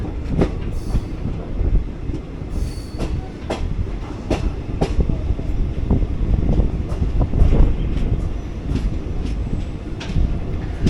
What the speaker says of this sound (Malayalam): പുതുച്ചേരി യശ്വന്ത്പൂർ വീക്കിലി എക്സ്പ്രസ് ആയിരുന്നത്.